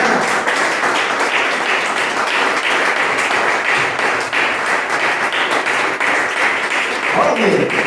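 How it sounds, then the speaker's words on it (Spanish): Sustained applause from a church congregation during a service, a dense steady patter of many hands clapping at once, loud and even throughout. "Vamos a brindar un fuerte aplauso al Señor en esta mañana."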